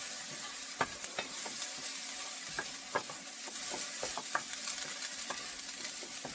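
Onions cooking with turmeric, red chili powder and coriander in a pan, a soft, steady sizzle broken by regular scraping clicks as a utensil stirs the mixture, fairly quiet and close.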